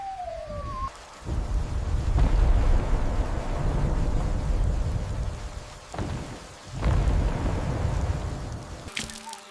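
Heavy rain pours in a rainforest thunderstorm while deep thunder rumbles roll and swell several times, with sharp crackling strikes cutting through the steady downpour.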